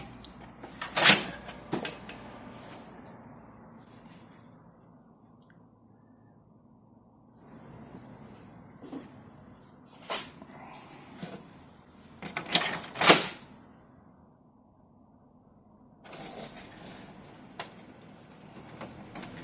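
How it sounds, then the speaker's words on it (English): A toner cartridge for a Brother MFC laser printer (TN-421/TN-423) is pushed back into place and the cover shut, giving a few sharp plastic clunks and clicks separated by quiet pauses, close and isolated. "Now I'm going to put it back in the cartridge back in the printer. Close it."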